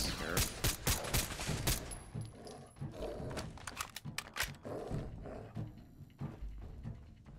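Rapid bursts of gunfire in Fallout 4, a dense volley of loud, close shots firing in quick irregular succession through most of the stretch with brief pauses between clusters.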